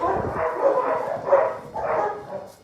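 A mixed-breed shelter dog barks three times in a steady rhythm, close by and fairly loud, with the barks blending into a whimpering tone.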